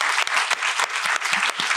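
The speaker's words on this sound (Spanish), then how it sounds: "Un aplauso a Daniel Cárdenas" Dense, steady applause from a studio audience at a Spanish-language podcast on homeopathy, continuous bright clapping with no pauses, close and fairly loud.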